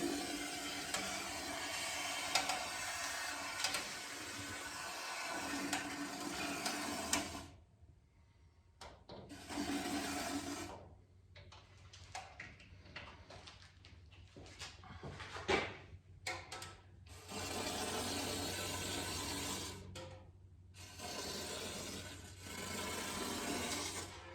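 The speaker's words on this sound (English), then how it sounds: "Really sprays pretty aggressively." Internal frame coating sprayed inside the frame rails of a 1966 Mustang under restoration: harsh, close hissing bursts of several seconds each, separated by short quiet gaps.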